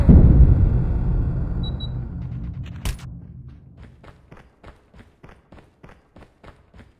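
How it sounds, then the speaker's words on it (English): In Call of Duty: Mobile, a gun magazine reload sounds as a sharp mechanical clack near the middle, after a loud opening burst that fades out, then a run of soft, evenly spaced clicks and taps trailing to the end. "Changing mag!"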